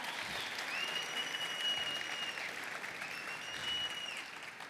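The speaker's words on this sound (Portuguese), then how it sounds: "Você pode dar um aplauso a Jesus pela vida dele?" A church congregation applauds during a sermon, a steady, soft wash of many hands clapping at a distance, with a faint tonal whine sounding twice above the clapping.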